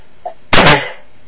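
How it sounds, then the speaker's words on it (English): A single sharp, loud sneeze bursts out close by, preceded by a brief faint intake, then quiet. "I feel a sneeze coming on"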